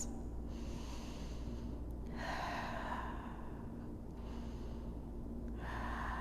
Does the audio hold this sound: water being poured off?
no